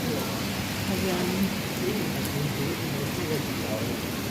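Heavy rain falls steadily in Taiwan during a typhoon, with strong wind roaring through, heard as a dense, continuous wash from nearby.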